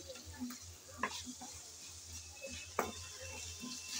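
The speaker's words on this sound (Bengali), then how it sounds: "আলুটা ভালো করে নেড়ে চেড়ে একটু কষিয়ে নিতে হবে" Potatoes fry in a pan while being stirred, a soft, quiet sizzle broken by two sharp scrapes of a utensil and lighter clinks, with no talk.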